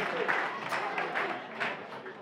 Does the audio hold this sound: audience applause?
yes